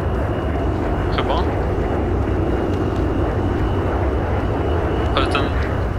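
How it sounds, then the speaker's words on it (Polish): A loud airplane roars in the Enter The Matrix video game, a constant heavy engine drone filling the mix throughout, with brief higher electronic game effects over it. "Ale ten samolot głośny."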